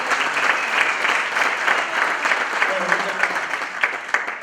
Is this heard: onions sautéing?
no